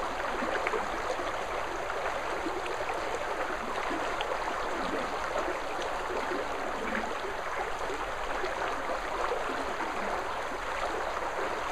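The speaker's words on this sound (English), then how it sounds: "I put the camera here by the brook where I am so that you can hear the running water" Running water of a brook in Auburn, California, a steady broadband rush and babble that holds even and close for the whole stretch with no voices.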